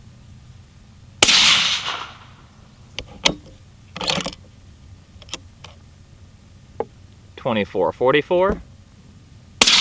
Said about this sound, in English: These are the first few shots through both of these barrels for quite a while